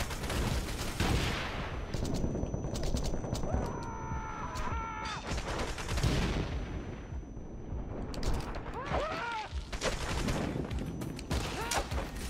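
Dense gunfire in the action game Wanted: Dead, with rapid bursts of shots and explosive impacts layered over a busy mix of effects, continuous and loud throughout the scene.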